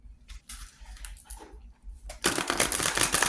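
Oracle cards shuffled by hand in a quiet room: after a few faint taps, a dense, close, steady riffling rush begins about two-thirds of the way through and continues to the end.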